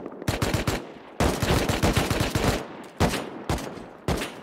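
Rapid bursts of automatic gunfire from a firefight in the survival game Rust, loud and close, coming in several sustained volleys separated by brief pauses, with no talking over them.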